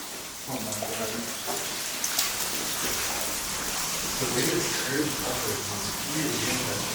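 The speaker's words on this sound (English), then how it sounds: "It's dripping still water." Water trickles and patters continuously inside an abandoned building in a Stalin-era city, a steady splashing hiss with scattered drip-like taps, fairly close and filling the whole stretch.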